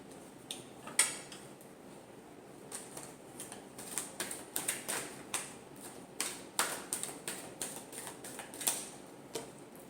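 Tarot cards are shuffled by hand in a quiet room, making soft, faint clicks and riffling taps that come in irregular, quick clusters.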